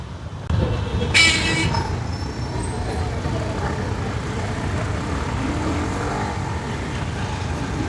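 Busy road traffic during a crowded festival rush, with a steady rumble of cars, buses and trucks and a loud nearby horn toot early on, while faint voices blend into the background.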